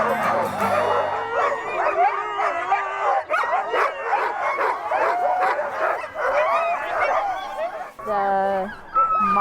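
Sled dogs on a historic northern Minnesota mail-run trail bark, yip, whine and howl excitedly before the race, a loud overlapping chorus close by with brief human talk mixed in.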